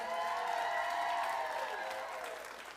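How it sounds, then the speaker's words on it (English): An audience at a pitch competition applauds the teams with continuous clapping and light cheering. The sound is fairly faint and distant, with tonal background noise, and it tapers off toward the end. "How about a round of applause for all these amazing teams"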